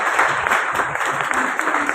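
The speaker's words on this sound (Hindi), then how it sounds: "जोरदार ताली से इस्तकबाल पेश करो" Loud, dense applause from an audience welcoming guests at a school event, sustained clapping that fills the whole moment.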